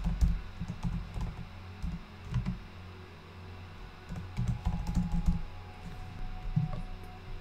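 Typing on a computer keyboard while renaming a file, with soft clustered key taps in short bursts close up, and quiet gaps between them.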